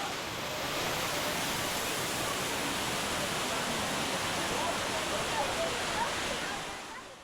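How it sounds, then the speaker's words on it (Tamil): Suruli waterfall in Theni district, fed from the Meghamalai hills, pours with a steady, even roar of rushing water. The wash of sound stays constant throughout and fades slightly at the very end. "இந்த அருவியானது மேகமலை மலைத்தொடர்களிலிருந்து உருவாகிறதுனால எப்போதுமே ஒரு மிதமான நீர்வரத்து இருந்துக்கிட்டே தான் இருக்கும்."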